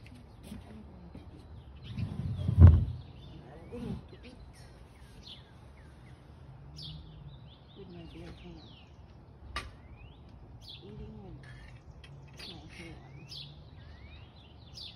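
Small birds chirp and tweet in a backyard with short, scattered calls over a quiet background, while a person talks and makes occasional bumps and handling noises nearby.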